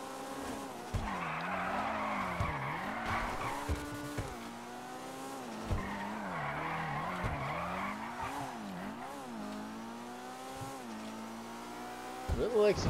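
A Maibatsu Penumbra FF in GTA Online revs up and down through repeated slides, its engine whining and dipping as tyres screech in long skids, with a harsh burst of tyre noise near the end.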